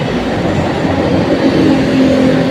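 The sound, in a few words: MRT-7 train at North Avenue station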